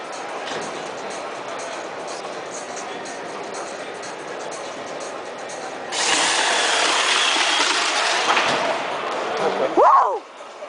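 A belt sander speedboat racing down a 20-metre track in an Axel Speedboat Evolution event: a steady rasping whine, then a sudden louder burst of grinding as the run takes off, ending in a brief rising squeal and a sharp thump.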